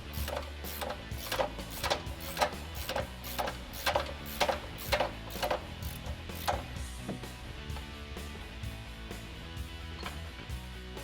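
Wrench ratcheting loose the upper control arm bolt and nut (18mm and 21mm) on a Ford F150 front suspension, a steady run of quick metallic clicks, close and fairly loud, with no talking.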